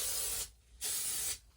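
Spray adhesive hisses onto a Ford Transit van panel in two steady, close bursts, each about half a second long, with a short gap between them.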